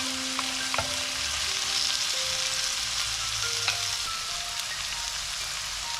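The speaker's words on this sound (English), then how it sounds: "While the onion and the garlic are cooking, add the chopped spinach and mix the ingredients." Onion, garlic and chopped spinach with dried tomatoes fry in a pan, giving a steady close sizzle with a few light stirring clicks and no talking.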